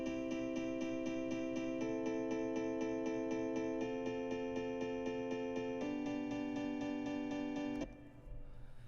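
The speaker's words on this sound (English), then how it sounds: "you should have these repeating 8th notes that run across the measure" Repeating eighth notes played back in Soundtrap, a steady run of even synthetic chord tones that shift pitch every two seconds or so before stopping abruptly near the end, loud and alone with no talk.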